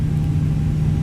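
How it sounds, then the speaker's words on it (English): An aircraft engine in My Flight Sim World hums steadily during spool-up, a loud low droning whir with a constant tonal note, brief and unchanging. "As soon as the engine gets up here, we'll go ahead and turn off the APU."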